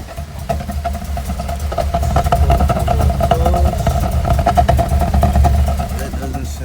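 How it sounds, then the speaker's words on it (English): A 2012 Chevy Tahoe 5.3 V8 flex-fuel engine with a knock sensor fault and misfires runs at raised RPM, giving a rough, uneven drone with rapid clattering pulses, heard close and steady throughout. "car starts, higher RPMs. You can hear the engine struggling"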